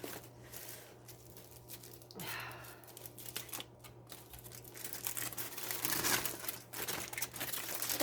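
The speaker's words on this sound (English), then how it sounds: "Let me finish my foil ball." Aluminium foil being crinkled and pressed by hand onto a growing foil ball, irregular close rustling and crackling that builds louder toward the end.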